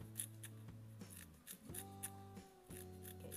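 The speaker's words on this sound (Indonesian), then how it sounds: "Kita guntingin biar dia tambah harum nanti digorengnya ya." Small scissors snipping pandan leaves for fried chicken, a series of close, quiet crisp snips at an uneven pace over a steady low hum.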